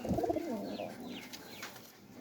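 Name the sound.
teddy pigeon cooing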